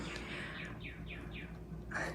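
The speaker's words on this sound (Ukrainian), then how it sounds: "Чуєте, як гарно співає? Це така червона пташка." A red songbird sings a series of four or five descending whistled notes over steady background hum, followed by one more brighter call at the end.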